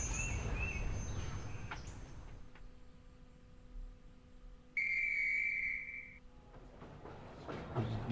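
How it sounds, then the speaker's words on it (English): Recorded birdsong in a video game scene at a train: a steady whistled birdcall holds for over a second at moderate level, with faint ambient sound and rumbling around it. "game is using real bird sounds"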